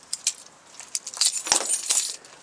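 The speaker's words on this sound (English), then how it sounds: "I don't drop the keys everywhere." Car keys drop and jangle close by, a short burst of bright metallic clinks and rattles in several quick bursts lasting about two seconds.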